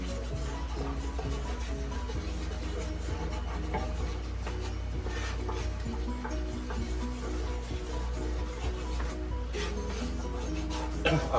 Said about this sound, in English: 1 cup of flour. Then we're going to start stirring that in.